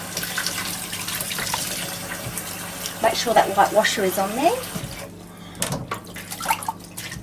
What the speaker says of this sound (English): I like to get some water through that nipple, just so that we can see that's clear.